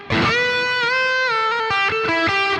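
Electric guitar through two blended BOSS GT-1000 amp models plays a loud, close, lightly driven phrase of sustained ringing notes with sharp pick attacks and shifting pitches.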